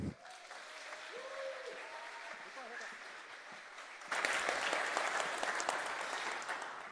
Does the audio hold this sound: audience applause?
yes